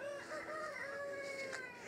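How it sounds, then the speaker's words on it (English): A young rooster learning to crow gives one faint, distant, strained crow over quiet outdoor background. "And did you hear the crowing?"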